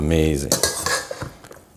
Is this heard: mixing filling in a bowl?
yes